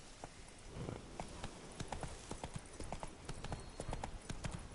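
Horse hooves clip-clop in a steady walking rhythm while riding in The Witcher 3, a string of crisp, moderately close hoofbeats over a faint game background, with no speech.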